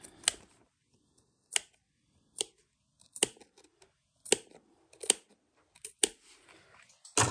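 Scissors snip around the curved gusset of a Betsy Bowler fabric bag, about nine short, crisp cuts in an uneven rhythm, close and fairly quiet with silence between them.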